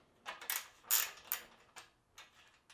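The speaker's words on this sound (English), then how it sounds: "we can go ahead and grab our ratcheting wrench here. And we can loosen up this bolt a little." Ratcheting wrench loosening a bolt on the rear wheel of a Lectric XP 2.0 e-bike, several short close clicking bursts spaced irregularly, fairly quiet with no talk.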